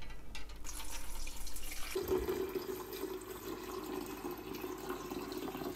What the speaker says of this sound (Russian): Вот сюда мы наливаем воду.